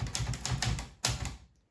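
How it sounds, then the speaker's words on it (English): Rapid clattering keystrokes on a mechanical typewriter, close and steady, ending with a sharper clack before falling quiet. "And that is how the typewriter works."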